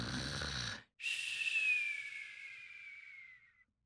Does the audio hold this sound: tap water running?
no